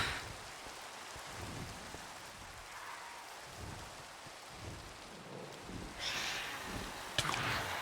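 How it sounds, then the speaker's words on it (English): Steady rain in Minecraft, a dense continuous hiss of falling drops that holds evenly throughout with a slight swell near the end and no talking. "It's raining again!"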